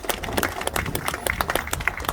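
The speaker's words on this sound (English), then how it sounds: "Let's give them a round of applause again." Audience at a Baltimore celebration of federal redevelopment funding clapping, a steady patter of many hands at moderate volume, dense and continuous throughout.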